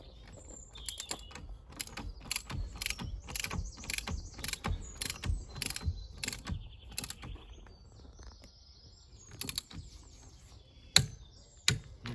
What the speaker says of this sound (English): Only hand tight your wheel nuts so the torque wrench can do the rest.